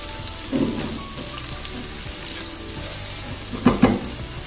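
Ginger garlic paste and chili paste fry with golden-brown onions in a pan, giving a steady close sizzle broken by two short bursts of stirring.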